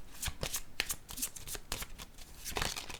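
Tarot cards are shuffled by hand before another is drawn, a close series of quick papery riffles and flicks in irregular bursts, with no speech over them.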